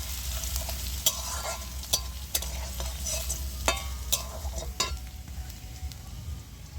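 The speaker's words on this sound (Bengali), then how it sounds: "তো রসুনটা আমি একটু লাল লাল করে ভেজে নেব।" Crushed garlic sizzles steadily in hot oil while a spatula stirs it, giving sharp, irregular scraping clicks over a continuous fry, heard close with no voices.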